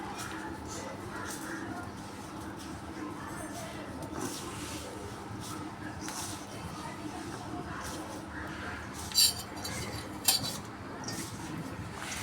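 Crushed jaggery being mixed into flour in a bowl for kuler laddu, with soft scraping and light clinks of utensil against the bowl over low room noise, a couple of sharper clinks near the end.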